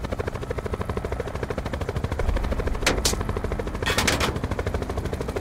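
Rapid automatic gunfire rattles continuously in Call of Duty: Black Ops 4 Blackout, close and loud, with a couple of sharper bursts standing out midway and no talk.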